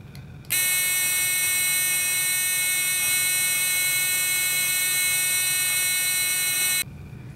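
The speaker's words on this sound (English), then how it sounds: "The buzzer will make a noise when the power switch is turned on." A loud electric buzzer in a simple classroom circuit, switched on by a power switch, sounds with a steady, harsh tone for several seconds, starting and stopping abruptly.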